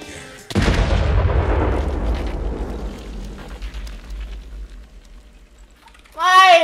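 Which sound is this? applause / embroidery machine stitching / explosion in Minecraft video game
explosion in Minecraft video game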